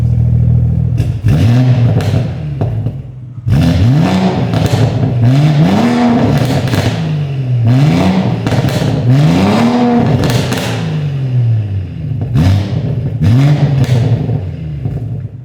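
Loud close revving of a modified BMW engine with a turbo, rising and falling several times, with crackling exhaust pops and bangs between the revs.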